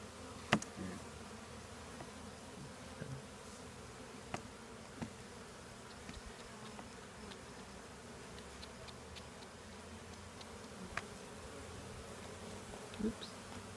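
A honeybee swarm being rehomed, a steady dense buzzing hum throughout with occasional louder close passes and faint clicks, no voices.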